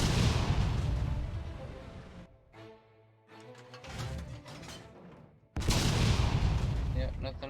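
Booming cannon blasts from German tanks in a modded Minecraft war game, heavy broadband bursts at the start and again near the end with a quieter stretch between, mixed with game noise and some talk.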